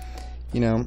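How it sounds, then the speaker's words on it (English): A phone in another room gives a short electronic notification tone, ringing out clearly for under half a second right after someone speaks over a low steady hum. "If you guys keep hearing notifications in the background, that's a phone."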